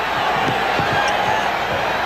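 Basketball arena crowd at a 1992 Eastern Conference Finals playoff game between the Bulls and Cavaliers, a steady loud roar of fans through the opening tip-off with a few faint bounce-like thumps underneath.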